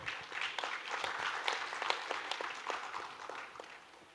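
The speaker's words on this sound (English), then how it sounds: "A big round of applause, I think, is due for CSRBOX also." Applause from an audience at a panel discussion on local livelihoods and CSR, a steady wash of many hands clapping that swells and then gradually thins out over a few seconds, with no talking.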